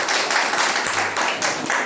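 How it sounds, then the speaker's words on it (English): Audience at a speakers forum claps for a participant, a brief round of indoor applause with dense overlapping hand claps, steady and moderately loud throughout. "Give him a round of applause."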